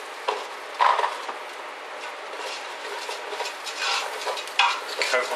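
Stock and tomatoes are poured and stirred into a bacon and tomato risotto, giving a bubbling, rumbling simmer with a sizzle and scattered louder stirring scrapes, close and continuous, without talking.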